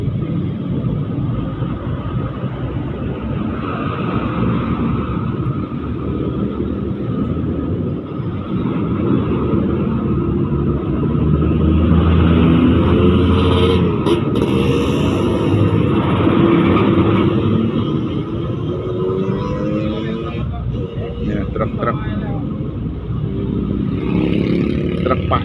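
Steady roar of heavy road traffic passing a congested stretch of Canguk, Magelang ahead of the Lebaran homecoming rush, with buses and dump trucks rumbling by continuously, engine drone swelling midway as larger vehicles pass close.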